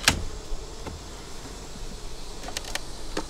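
Honey bees hum steadily around an opened hive with a honey super, a soft continuous buzz with a few louder bees passing close by.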